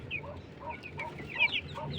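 Silkie chicken chicks, about one and a half to two months old and a rare fancy breed, cluck and peep softly in a run of short repeated calls, fairly close with no talk over them.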